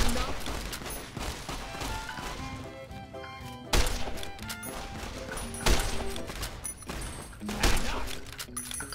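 Gunfire in the video game Fallout New Vegas, with repeated sharp shots and impacts cracking through a dense, busy game mix for several seconds, mostly without talk over it.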